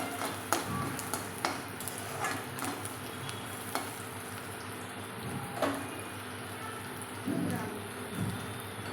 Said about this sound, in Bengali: তারপরে একটু ফ্রাই করতে দেবেন।